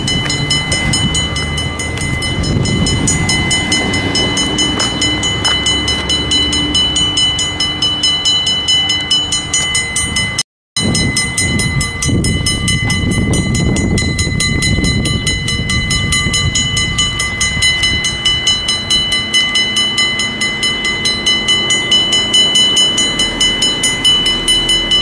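A passing train rumbles steadily for the whole stretch, loud and close, with rolling low-end noise and brief swells, broken by a momentary dropout near the middle.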